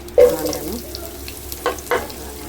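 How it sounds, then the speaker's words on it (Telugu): Mustard seeds and curry leaves splutter in about three spoons of hot oil, a soft background sizzle broken by a few sharp pops and crackles, close by. "హాఫ్ స్పూన్ ఆవాలు వేసుకున్నాను. ఆవాలు వేడతాయి. కరివేపాకు తర్వాత"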